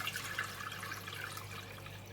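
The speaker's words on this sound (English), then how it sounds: "First I'm going to pour in the chicken stock." Lightly salted chicken stock poured into a soup pot, a continuous gentle splashing gurgle of liquid with faint dribbling accents, close and fairly quiet, with no voices.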